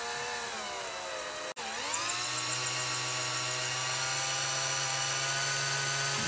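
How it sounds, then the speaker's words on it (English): A drill spins a brass rifle case into trimmer cutters during cartridge brass prep. Its steady, loud whine briefly cuts out and then spins back up, holding a constant tone to the end with no voices. "the drill, as it spins the brass, will force the brass into the cutters down here"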